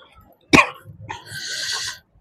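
A person coughs once, sharp and close, followed by a rougher throat-clearing rasp that trails off, outdoors near a cemetery.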